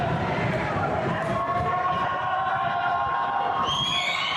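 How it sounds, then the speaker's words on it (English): A basketball crowd at a high school playoff game roars steadily, a dense wash of cheering and yelling that holds at a loud, even level throughout, with a few higher whoops rising near the end. "Crowd gets into it."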